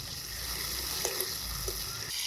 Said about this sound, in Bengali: মাথা 3টা ভাজা হয়ে গেল, এগুলো নামিয়ে লেজা 3টা ভেজে নেব।